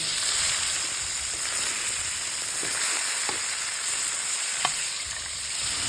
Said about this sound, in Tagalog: atin na pong i-add itong pusit dito sa ating ginisang ito